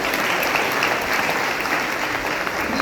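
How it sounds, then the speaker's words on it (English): A round of applause for the cooks at a Sunday feast at ISKCON Toronto: dense, sustained clapping from a full audience, loud and continuous throughout. "Thank you very much. Round of applause."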